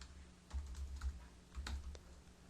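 Code is typed on a computer keyboard during a Python programming tutorial, two brief clusters of close, soft key clicks over a low steady hum, with no talk.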